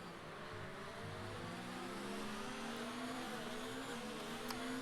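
Racing cars in a sim racing game at the Canadian Grand Prix, engines droning and revving steadily, pitch climbing through gear changes as they drive fast, with a faint whoosh near the end.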